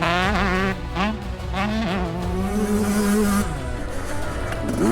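Dirt bike engines race on a farm track, one engine droning steadily and loud up close, its pitch rising and falling through gear changes and throttle swells over about five seconds.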